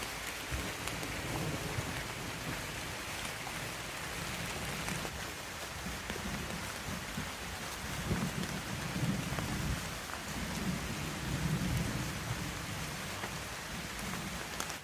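Steady rain pours down on the Appalachian Trail, a dense hiss throughout, with low rumbles of thunder swelling in the background now and then.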